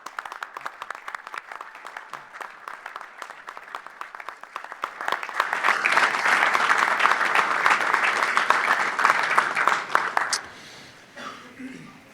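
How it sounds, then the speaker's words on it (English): Applause breaks out for police officers at a county board of commissioners meeting, beginning as scattered claps, swelling into full, sustained clapping, then cutting off abruptly near the end as a voice resumes. "let's give these officers another round of applause"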